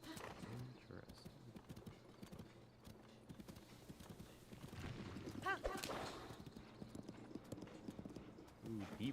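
Horses in the video game Zelda: Tears of the Kingdom clip-clop rhythmically with hoofbeats and an occasional whinny, heard under someone talking over the game sounds.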